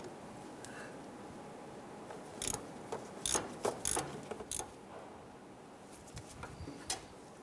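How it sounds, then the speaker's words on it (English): A ratchet with a 13mm socket loosens the steering shaft bolt on a 1995-2001 Ford Explorer, heard as a few close clicking ratchet strokes in an uneven cluster over a quiet hum, then fainter scattered clicks, with no voices. "Using our 13mm socket, we're going to go ahead and loosen the bolt here for our steering shaft to the intermediate here."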